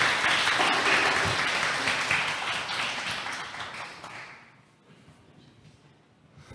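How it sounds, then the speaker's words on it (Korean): An opening-ceremony audience applauds to welcome a speaker to the stage, a full burst of clapping that gradually thins and fades to near quiet after about four seconds. "큰 박수로 환영해 주시면 감사하겠습니다"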